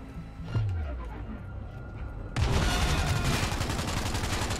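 Gunfire rings out in the video game Cyberpunk 2077: a single crack, then after a short pause a dense, loud burst of rapid shots that keeps going without letting up.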